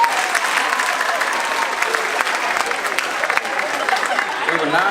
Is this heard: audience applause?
yes